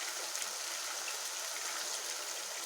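Water poured into a pan of cooking peas and potatoes for an aloo mutter masala fry, heard as a faint, steady, hissing gush that runs without a break.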